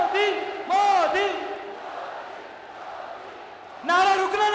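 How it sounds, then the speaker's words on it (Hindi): A large crowd at a political rally for Prime Minister Narendra Modi in Chittorgarh, Rajasthan chants loudly in repeated bursts, with a swell of noisy cheering between the chants. "हमारे बीच में एक बार जोरदार ताली बजाकर मोदी मोदी मोदी"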